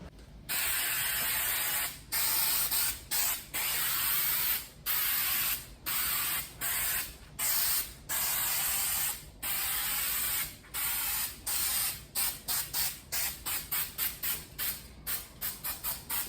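An aerosol can sprays adhesive or coating onto a foam muscle torso for a Red Hood costume, in repeated close hissing bursts separated by short gaps that become quicker and choppier toward the end.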